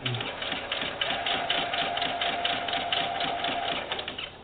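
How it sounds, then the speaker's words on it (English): Sewing machine running steadily as it stitches a fabric quilt border to the end of a folded mitered corner, a continuous rapid mechanical whir close by, with no talk. "just fold that up like that and just sew to the end of it"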